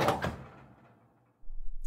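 A household fuse box door swinging open, a short knock and thud at the start that fades away, followed by quiet room noise.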